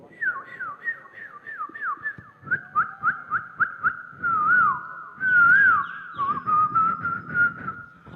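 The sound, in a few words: voice imitating birdsong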